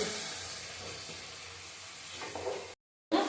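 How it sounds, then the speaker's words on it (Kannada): Chopped tomatoes frying in a pan with field beans give a steady, quiet hiss and sizzle, broken by a brief gap before a louder burst of stirring. "ಈಗ ಟೊಮೊಟೊ ಹಾಕೊಳ್ಳೋಣ ಹಚ್ಚಿಟ್ಟಿದಂಥವು ಇದು ಸ್ವಲ್ಪ ಫ್ರೈ ಮಾಡ್ಕೋಬೇಕು ಟೊಮಾಟೊ"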